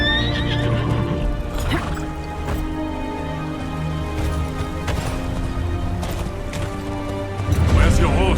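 A horse whinnies and snorts with clopping hooves in the video game Game of Thrones: Kingsroad, layered over a steady musical backdrop, and a voice speaks briefly near the end.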